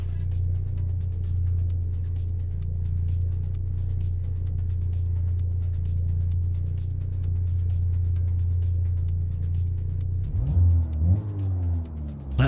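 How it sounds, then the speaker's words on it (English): Car engine idling in the racing game Assetto Corsa, a loud, steady low hum that holds for about ten seconds before the revs climb and fall in a few quick swells near the end. No one speaks. "That idle noise is a bit loud, isn't it?"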